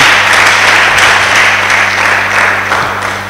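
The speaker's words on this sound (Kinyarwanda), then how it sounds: "thank God by clapping?" A congregation at a church service claps loudly and continuously in thanks to God, a dense, sustained wash of applause with a steady electrical hum beneath it and no talking.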